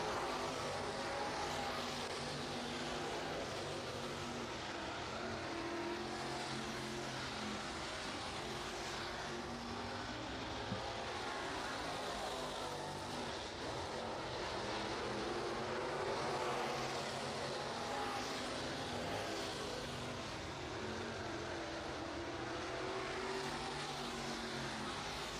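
A 602 Sportsman race car runs hot lap qualifying at Cochran Motor Speedway in Georgia, its engine roaring steadily and loudly throughout without a break, with no talk over it.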